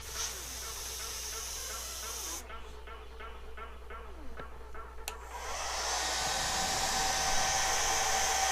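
A hair dryer drying paint on a scale model tank whirs with a steady hiss, cuts out briefly amid faint handling noises, then starts again and runs loud and continuous.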